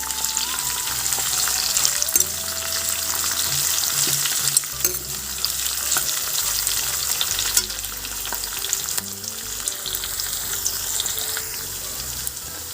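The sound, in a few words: frying and stirring onions for carrot rice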